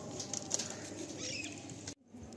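A female pigeon flaps its wings in a dense, steady rustle lasting about two seconds close by, then stops abruptly, leaving quieter room sound.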